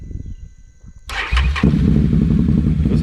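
Can-Am Renegade ATV, a 2023 build fitted with an SCM exhaust, fires up after a quiet lead-in and settles into a close, steady idle with a low throaty rumble.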